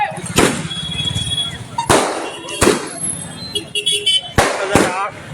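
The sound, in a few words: fireworks exploding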